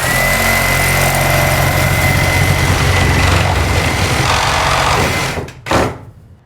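A power saw fitted with a Diablo blade cuts during a basement remodel, a loud, sustained whine that runs steadily and then drops off abruptly near the end, with a short final burst before it goes quiet.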